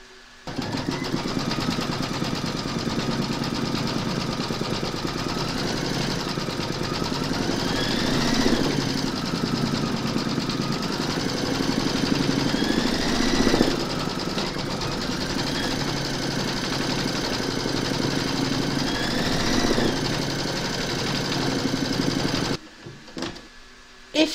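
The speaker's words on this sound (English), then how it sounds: "So we're now going to stitch round number four." Embroidery machine stitching a gnome quilt block for a table runner, working the heart background quilting: a steady, fairly loud mechanical whir with rising and falling whine pitches, running continuously before cutting off near the end.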